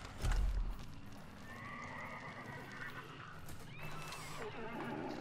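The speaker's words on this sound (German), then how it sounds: "Das war das Pferd, das wir gehört haben." A horse whinnies in a drawn-out, high call after a brief low thump, followed by a second shorter neigh, set against a quiet ambient hum, in the video game Hunt: Showdown.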